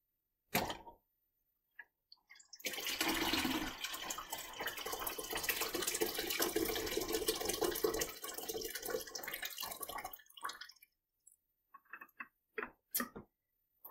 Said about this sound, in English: you're going to pour it into the tank that's labeled Used Film Developer